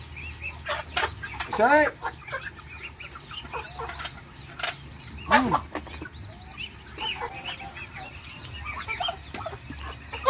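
Chickens clucking and squawking at feeding time on a farm that also keeps muscovy ducks, with a couple of loud calls standing out over low background clucks, while someone briefly shouts and talks.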